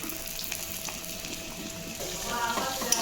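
Potatoes go into hot oil with browned spices in a home kitchen pan, producing a close, quiet sizzle that grows louder and crackles toward the end, with no voices.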